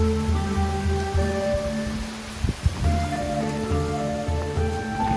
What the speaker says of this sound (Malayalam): അത്യാവശ്യം നല്ല രീതിയിൽ മഴ പെയ്യുന്നുണ്ട്.